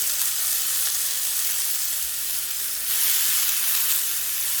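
Steak and potato kabobs on trimmed wooden skewers sizzling in a pan over medium heat, a steady bright frying hiss that swells slightly partway through, close and alone.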